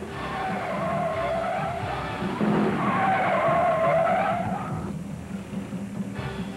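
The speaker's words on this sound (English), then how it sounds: "spun that Dodge all the way around" A Dodge stock car spins all the way around during the 1971 NASCAR Grand National race at Riverside, its tires skidding in a loud, sustained squeal over engine noise for about five seconds before it fades.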